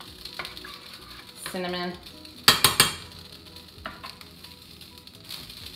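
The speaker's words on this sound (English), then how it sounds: "Just give it a couple of stirs" A spoon stirring oatmeal with cinnamon in a pot on a stovetop set to high, with a short run of scraping followed by three quick clinks against the pot and some soft sizzling.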